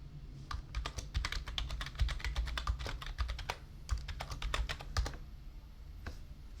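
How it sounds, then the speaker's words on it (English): A password is typed on a computer keyboard, close and fairly quiet, with irregular clusters of sharp key clicks and a few pauses, with no talking. "I was just typing the password wrong."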